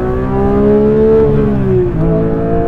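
A 2022 Porsche 911 GT3 engine revs hard and high, a loud, close, continuous wail that climbs, dips briefly and rises again with no talking over it.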